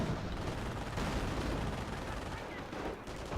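Sustained video game gunfire from a strafing run, a dense continuous roar of rapid shots and rumble filling the whole stretch at steady loudness.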